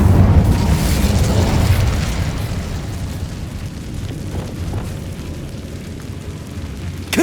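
Incendio fire spell in Hogwarts Legacy, a loud booming burst of flame that rolls into a fading rumble, followed by a small pop near the end.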